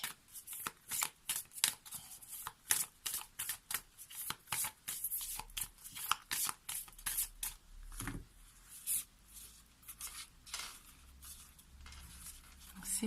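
Lunology oracle cards being shuffled, a steady run of soft, quick riffling flutters close by and quiet, with no talking over it.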